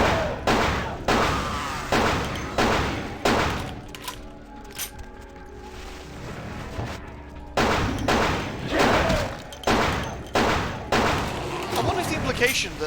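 Gunshots fire in the video game Vampire the Masquerade Bloodlines as repeated heavy thuds in uneven bursts, loud and close. A quieter stretch sits in the middle, and the firing returns in quick clusters afterward.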